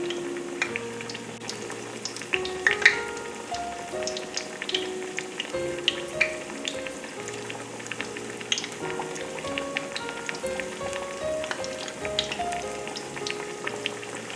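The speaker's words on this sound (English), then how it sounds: "Once it starts frying like that, I'm going to turn it down a little bit" Zucchini slices sizzle and crackle steadily in hot oil in a frying pan, a continuous close, moderately loud frying hiss with scattered pops and faint clinks of utensils throughout.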